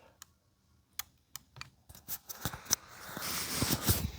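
An Olympus BX50 polarizing microscope stage is turned through its click stop, producing a series of sharp, close detents that grow quicker toward the end, followed by a brief rustle.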